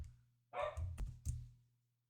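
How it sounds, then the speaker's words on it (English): Dogs barking in a home studio, a few sharp barks at moderate distance over a low steady hum, loud onsets around the middle then fading out. "and the dogs are barking"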